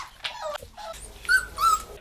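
Small puppies, found as newborns on the street and now raised indoors, give short high-pitched whimpers and whines, a few squeaky cries in quick succession, close up and alone.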